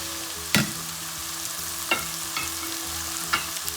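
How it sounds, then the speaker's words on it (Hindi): Garlic and ginger fry in a pan for a keema matar dish with a steady, even sizzle throughout. A spoon stirs them with a few distinct scraping clinks, and no one speaks. "हम लहसुन अदरक को थोड़ा सा भूनना है, इतना कि लाइट ब्राउन हो जाए"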